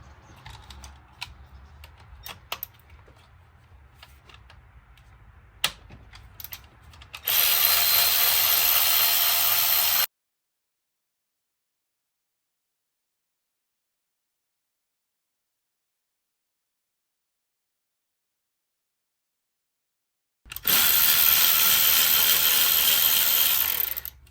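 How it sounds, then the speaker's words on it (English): Bolts holding the fuel rail come out of a BMW 335d diesel engine, with light clicks and taps first, then two loud, steady bursts from a power tool a few seconds long, separated by a long silence. "you can take these bolts out right here that hold the rail"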